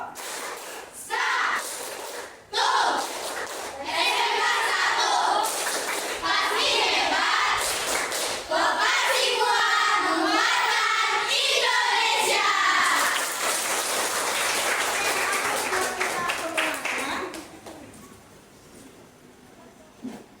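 A vocational high school class performs a rhythmic clapping chant together, sharp unison claps in patterned bursts mixed with the students' chanted voices, close and loud before fading into quieter room noise.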